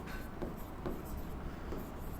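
Pen scratching across paper while working through a math problem, soft continuous strokes with small rhythmic scrapes, close and fairly quiet.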